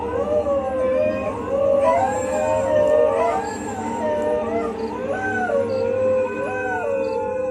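Several dogs howl together for a horror story, long rising and falling wails that overlap and answer one another, sustained and fairly close throughout.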